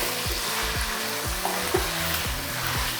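Chicken sizzles steadily in oil over a high flame, with a constant frying hiss and regular scraping strokes of stirring.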